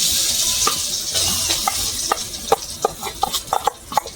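Soybean dhoka mixture sizzling and frying in hot oil in a wok, a steady loud hiss with scattered pops and crackles growing more frequent, heard alone without talk.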